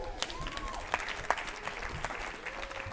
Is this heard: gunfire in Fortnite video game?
no